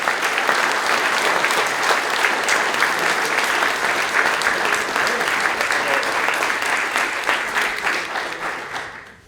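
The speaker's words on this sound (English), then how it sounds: "I want to give a good round of applause because they worked hard" Sustained applause from the audience at a Sunshine Coast, BC candidates forum on environment and climate change, a dense, steady clapping that holds for about nine seconds before tapering off at the end.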